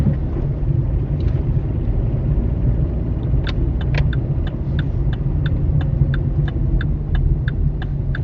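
A manual car pulls away from the right-hand kerb and picks up speed, with a steady engine rumble and road noise throughout and a regular ticking pattern joining partway through.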